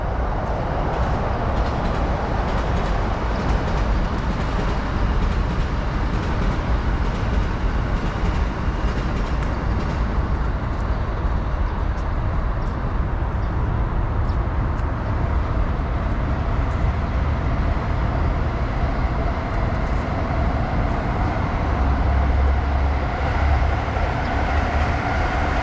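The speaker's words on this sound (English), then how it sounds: "it's very noisy with the trains if you're not really high up" Trains rumble past in Tokyo's Azabu district, a steady loud low roar with rail rattle filling the whole stretch without a break and no voices.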